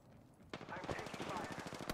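Rapid automatic gunfire from the video game Apex Legends erupts after a quiet moment, a fast rattling burst of close shots with a heavier blast near the end.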